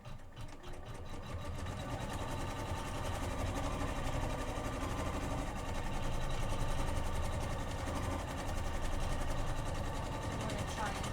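An embroidery machine stitches a quilting design on a Kimberbell Clear Blue Tiles project, a steady, fast mechanical whir with a rapid rhythmic needle chatter, close and constant throughout.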